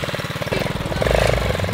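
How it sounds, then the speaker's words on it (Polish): A motorcycle engine runs close by with a rapid, uneven chugging rhythm that swells louder partway through, heard alone without talk. "Wzięliśmy ten motor, więc dobra, spalamy go."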